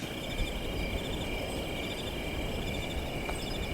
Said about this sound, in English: I want to hear the crickets, not my voice.